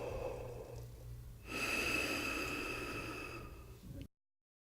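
A tuba student draws one long, audible breath through the mouthpiece before playing. The inhale is close and breathy, lasting a few seconds, then cuts off abruptly into silence.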